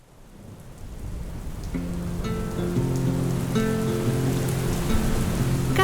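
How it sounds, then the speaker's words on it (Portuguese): Steady rain pours down outside, building from a soft hiss into a dense, continuous wash with sharper drips on gutters and cornices. Low tonal hums run underneath. "Cai a chuva lá fora"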